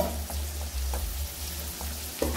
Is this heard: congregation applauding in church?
no